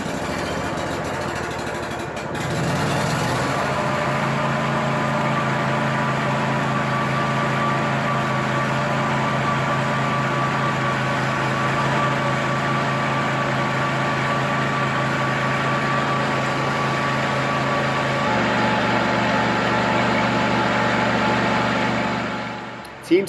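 A John Deere D125 lawn tractor with a used snowblower attached runs steadily, a droning engine with a constant whirring tone; the pitch shifts slightly partway through before a sharp clunk at the end.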